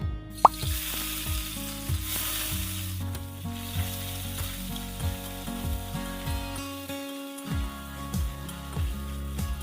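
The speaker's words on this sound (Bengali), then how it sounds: "এবার আমি কেটে রাখা নারকেল কুচিগুলো আগে ভেজে নেব" Chopped coconut fries in hot mustard oil with a steady, close sizzle, broken by soft plops and light crackles throughout, with no voices.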